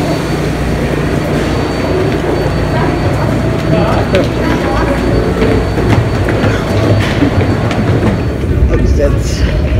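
A New York City MTA subway train rumbles loudly and steadily close by with continuous clattering, while voices murmur faintly underneath.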